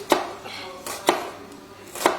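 A knife chops lengthways through an onion on a board, three crisp, evenly spaced cuts about a second apart, close and moderately loud with no talking.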